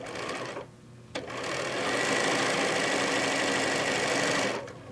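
A sewing machine runs steadily while stitching quilt blocks together, a close, even mechanical whir that pauses briefly near the start and then continues for several seconds before slowing.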